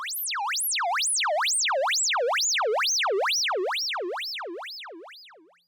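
A bright synthesizer tone wobbles rapidly up and down in pitch in a steady, regular vibrato-like cycle, gradually sinking lower before fading out.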